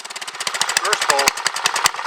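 A Honda GX240 engine on a homemade quad fires up on its first pull and settles into a loud, fast, steady chugging idle, with a voice talking briefly over it.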